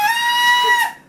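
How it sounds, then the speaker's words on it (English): A single high, piercing vocal screech holds steady for about a second, then cuts off sharply. "Do your highest pitched screech you can possibly do."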